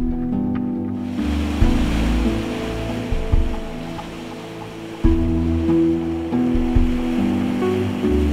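Ocean surf breaking against a seawall on the shore of Kiribati at high tide, a steady loud wash of waves with repeated heavier surges roughly every couple of seconds, with no voices.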